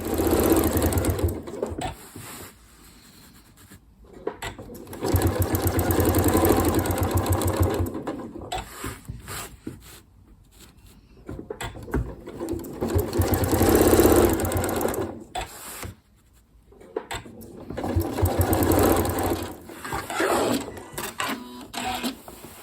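Janome Horizon Memory Craft 9480 QC Professional sewing machine stitching during ruler quilting, running in several bursts of fast rhythmic needle chatter with brief pauses between, close and steady, no talk.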